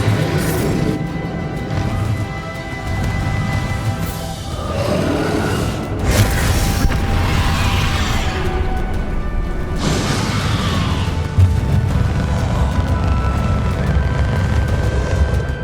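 Confringo and Bombarda blast spells going off in a Hogwarts Legacy battle against Ranrock: a dense, loud roar of explosions, whooshes and crashing debris that runs without a break, with bigger bursts rising out of the constant din.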